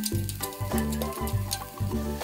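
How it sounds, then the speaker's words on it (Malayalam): Bitter gourd frying in coconut oil in a pan gives a close, steady sizzle with faint crackles, and no voices are heard. "ഞാൻ വെളിച്ചെണ്ണയിൽ തന്നെ പാവയ്ക്ക വറുത്തെടുക്കണം."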